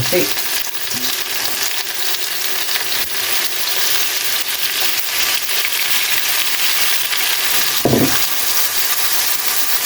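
Garlic fries in a pan for chicken feet adobo with a steady, dense sizzle, and a utensil stirs and scrapes now and then.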